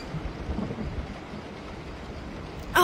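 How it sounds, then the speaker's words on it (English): Steady rain hisses under a low rumbling thunderstorm, with a distant roll of thunder, then a sharp bright burst of sound at the very end. "I hate thunderstorms. They are so scary."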